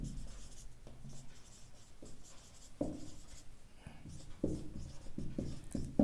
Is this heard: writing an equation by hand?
yes